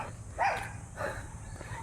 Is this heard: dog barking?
yes